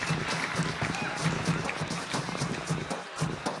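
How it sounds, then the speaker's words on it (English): Steady crowd applause fills the space with continuous dense clapping, some voices faintly mixed in, moderately loud throughout. "I can hear that the crowd are actually applauding this man's work."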